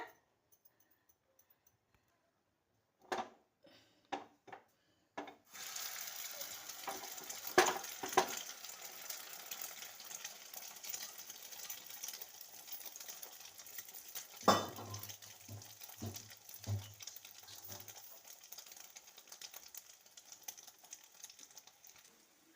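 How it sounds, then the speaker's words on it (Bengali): An egg omelette fries in a pan, heard as a soft, steady sizzle with a few scattered scrapes and light clinks of utensils, close by and with no talking. "এখন আমি এই পরোটা খাবো বলে একটা ডিমের আমলেট করে নিচ্ছি"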